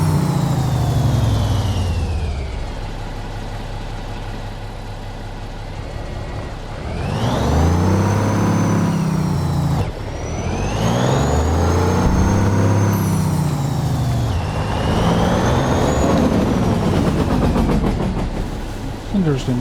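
Modded truck engine in American Truck Simulator with turbo whine, revving repeatedly in long surges that rise and fall, loud and close, with a high whistling whine climbing with each rev.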